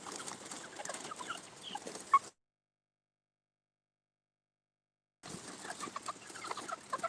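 Backyard hens clucking and chattering among dandelions, a steady close flock murmur with sharp calls, broken by a few seconds of silence before the clucking resumes.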